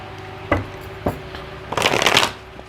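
Tarot cards being handled and shuffled, two soft taps on the deck followed by a quick, close riffle of cards, with no talking.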